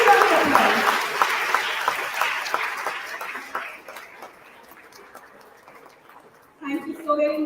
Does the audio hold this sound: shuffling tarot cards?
no